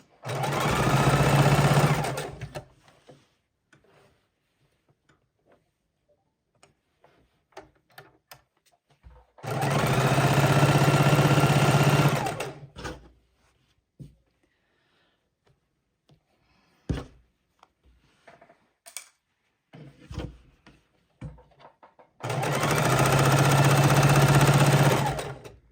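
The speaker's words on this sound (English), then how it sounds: "So I'll go just a little bit more and back stitch" A sewing machine stitching a fabric placemat runs in three loud, steady bursts of several seconds each, with quiet stretches of small clicks and handling noises between them.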